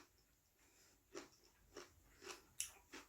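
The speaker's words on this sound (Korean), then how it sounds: "옆에서 씹는 소리 ASMR이에요." Quiet, close chewing with crisp crunches at irregular intervals, four or five distinct bites of rice and mustard-leaf kimchi against a soft background.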